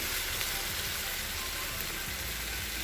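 Food frying in too much oil gives a steady, broadband sizzle that stays moderately loud and continuous, with faint low rumbles beneath and no talk.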